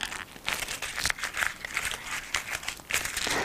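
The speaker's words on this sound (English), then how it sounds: "take that piece of paper and crumple it into a ball" A sheet of paper is crumpled into a ball by hand, making a continuous run of dense crinkling and crackling bursts, fairly close and steady, with no talking.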